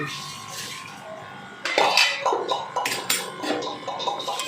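A metal lid lifted off a pot of cooking ridge gourd dal, with a sudden clattering clink followed by a few lighter metallic knocks and rattles close by.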